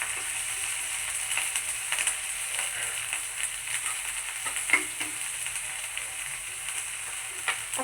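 Shrimp fry in hot oil for shrimp bhuna, a steady close sizzle and crackle with small pops throughout, no voices.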